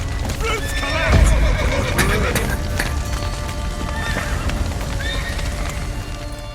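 Horses neigh and whinny loudly in The Witcher 3, with hooves clopping and a burning-building commotion behind them, as a voice speaks over the scene.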